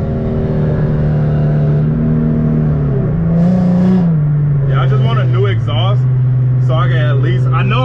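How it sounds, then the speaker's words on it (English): An Infiniti G37 driving with a loud, raspy exhaust is heard from inside the cabin as a steady engine drone that shifts pitch as the car changes speed, while someone talks over it. "I still want a new exhaust for the simple fact this exhaust is so raspy."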